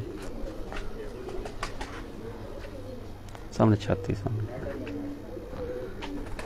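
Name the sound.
Golden Mamdeen pigeons cooing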